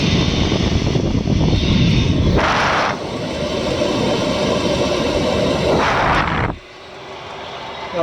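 The exhaust of an 8kw diesel heater at an off-grid cabin gives a steady, close, rushing roar that swells in places, then drops off sharply to a quieter hum.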